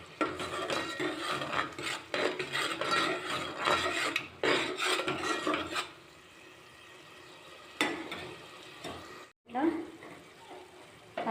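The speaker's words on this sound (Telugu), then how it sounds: "ఉల్లిపాయ పేస్ట్ యాడ్ చేసి బాగా వేయించుకోవాలి." Onion paste frying in a pan while being stirred for a goat head curry, rough scraping and rasping strokes in bursts with quieter gaps, with a voice speaking partway through.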